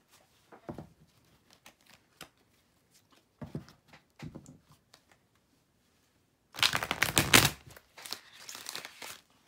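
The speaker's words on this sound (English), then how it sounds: "I'm trying to be super quiet shuffling on desk just because it's so loud" Dry papery rustling and riffling of tarot cards shuffled on a desk in short bursts with pauses, ending in a longer, louder crinkling flurry close by.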